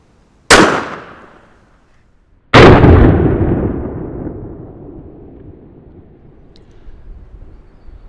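Two sharp, loud gunshots from a Walther WMP .22 Magnum pistol firing Gold Dot rounds, spaced about two seconds apart, each with a long echoing decay outdoors.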